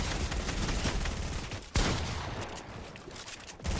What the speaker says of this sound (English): P90. Yeah, let's demonstrate with that, and let me turn L2 spam on.